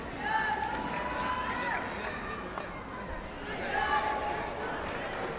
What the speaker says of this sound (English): Vibrant indeed, the crowd.